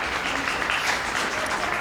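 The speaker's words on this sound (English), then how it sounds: "An applause for all 4 of them" Brief steady applause from the audience at a county supervisors district forum, a continuous wash of clapping with no clear gaps.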